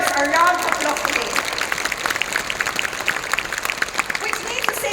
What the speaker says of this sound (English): Can we give Vietnam, our brothers, a round of applause today?